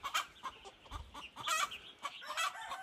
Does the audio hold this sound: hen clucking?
yes